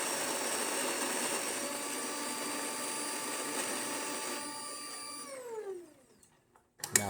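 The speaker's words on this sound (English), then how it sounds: "So we're going to just brew an espresso shot, short coffee here" DeLonghi Magnifica espresso machine brewing a short espresso shot after a full service, a steady loud pump and grinder-like whir with tonal hum that cuts off near the end, followed by a few faint clicks and a brief knock.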